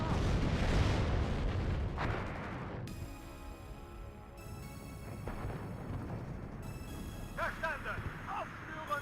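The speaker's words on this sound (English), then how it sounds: "Using a lot of artillery and mortars." Artillery and mortar fire in the video game WARNO, a loud blast up front followed by rumbling booms and scattered distant impacts, with speech-like sounds appearing briefly near the end.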